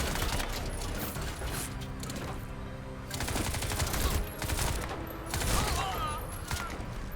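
Rapid gunfire in the video game Crysis 2, dense bursts of automatic shots in close succession with short pauses, loud and continuous.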